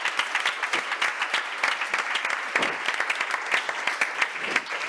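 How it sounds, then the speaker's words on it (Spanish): Audience applause at a round-table panel session on climate policy, a dense steady patter of many hands sustained throughout at moderate level, with no voices over it. "otro fuerte aplauso."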